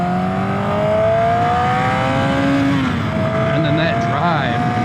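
A Yamaha Maxim 700 four-cylinder cruiser motorcycle accelerates out of a corner, the engine note rising steadily and then shifting, loud and close, with wind rush throughout.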